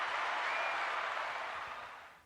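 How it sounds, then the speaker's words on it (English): An audience at a live show gives a round of applause, a soft, distant, even wash of clapping that fades out toward the end. "Take a round of applause."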